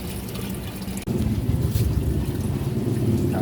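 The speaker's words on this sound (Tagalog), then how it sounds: "Doon pumapasok yung tubig na galing dito sa aquarium." Water from an aquarium trickles steadily into a bag holding crayfish during acclimation, a close, constant watery babble with a brief bump near the start.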